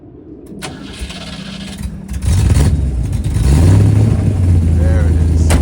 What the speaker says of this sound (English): Let's get to the rear so we can hear the V8.